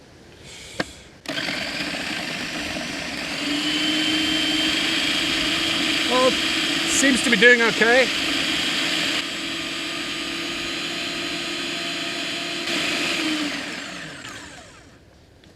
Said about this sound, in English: let's just hope that my blender is up to the task